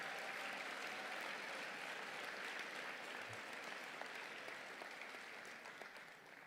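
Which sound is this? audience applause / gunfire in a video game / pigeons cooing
audience applause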